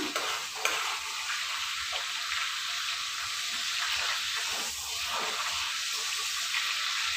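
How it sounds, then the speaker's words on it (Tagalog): Garlic sautéing in a pan while cooking pancit canton and bihon guisado, a steady close sizzle and frying hiss that runs the whole time with faint stirring scrapes, and no voices. "igigisa ko na po yung garlic"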